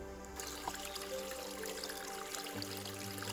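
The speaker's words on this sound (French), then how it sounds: "j'ai trouvé un petit ruisseau juste là. Donc on va faire usage de la gourde filtrante" A filter water bottle is being filled in a small, cold mountain stream, giving a soft continuous trickle and gurgle of running water close by, fairly quiet and with no talk.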